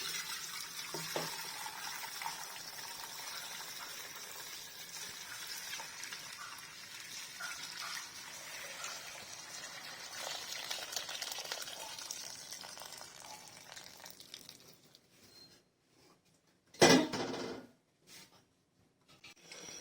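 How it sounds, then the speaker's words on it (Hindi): Kashmiri chai being strained through a strainer, a steady wet pouring wash of liquid running for about fifteen seconds, then quieter, with one sharp clatter near the end. "ये देखो हम कश्मीरी चाय छान रहे हैं।"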